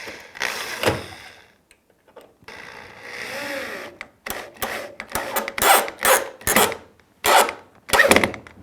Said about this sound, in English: go ahead and run in your first screw